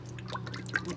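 Warm water poured into a cinnamon bun dough mixture of milk powder, condensed milk, egg and melted butter, a faint, brief trickle over a steady low hum.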